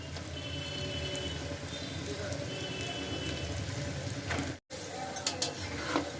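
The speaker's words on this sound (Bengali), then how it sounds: "সেদ্ধ করে রাখা চাউমিনগুলো এবার দিয়ে দিচ্ছি" Loud continuous sizzling in a hot wok, a brief cutout, then clattering and crackling as boiled chow mein noodles are added, tossed and stirred with winter vegetables.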